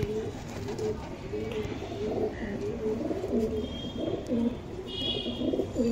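Pakistani pencil-tail pigeons in a loft in Purba Bardhaman, several birds cooing continuously in overlapping low warbling calls, close and steady, with faint chirps above and a murmur of background activity.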